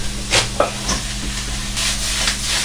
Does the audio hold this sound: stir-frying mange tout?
yes